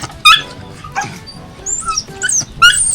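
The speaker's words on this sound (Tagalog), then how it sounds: "Ang lalaki na po ng mga alagang aso dito sa kubo." Large pet dogs at a hut whimper, yip and give short barks in close, loud bursts, with high whining notes between them.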